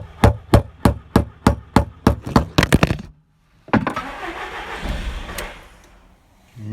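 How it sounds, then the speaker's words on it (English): An Audi TT with a faulty fuel pump cranks in a rapid series of about ten rhythmic turns, then, after a brief pause, the engine catches and runs with a rough rising rumble before dropping away. "So loads of tapping on the fuel pump just there, and I got the car running."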